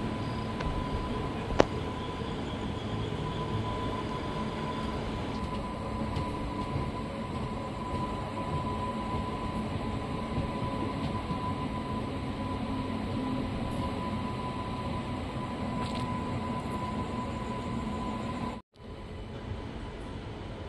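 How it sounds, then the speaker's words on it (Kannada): Steady, loud rumble of a passenger train running on the railway after departing Hindupur at night, continuous wheel and carriage noise with a sustained whine, briefly cut near the end, with no talking. "ನಮ್ಮ ಟ್ರೈನ್ ಈಗ ಹಿಂದೂಪುರದಿಂದ ಹೊರಟಿದೆ"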